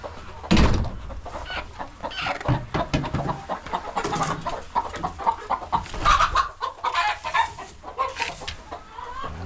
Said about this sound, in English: You know, Rooster, that was not where you were supposed to go